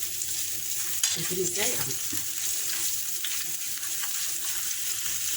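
Garlic sizzles in a pan before chicken livers and gizzards go in, a steady close-up frying crackle. Someone speaks briefly over it.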